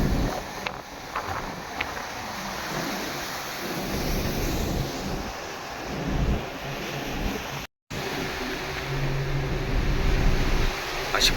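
Heavy North Atlantic ocean waves surge around a ship at anchor in rough weather, a constant roar of surf and wind buffeting the microphone with rising swells, and one brief dropout partway through.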